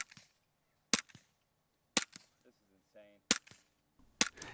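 Five sharp, loud reports from a pistol fired through a Dead Air Mojave 45 suppressor, coming about once a second with short echoing tails. Faint, brief muffled speech is heard between two of the shots.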